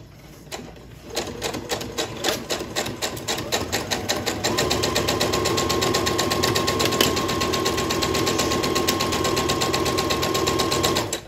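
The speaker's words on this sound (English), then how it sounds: "I'm just going to sew along this edge at 1/4-inch seam allowance" A sewing machine stitches a quilt seam at stitch length 2, starting with distinct rapid clacks that speed into a continuous close, loud mechanical hum held steady to the end.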